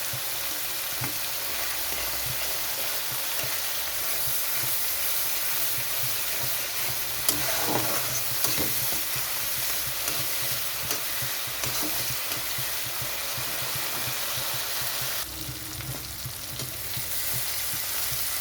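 Spice masala with tomato, salt and turmeric fries in hot oil for a spicy bhoot chanda fish curry, giving a continuous, even sizzle with occasional stirring scrapes, steady and close throughout, with no talking.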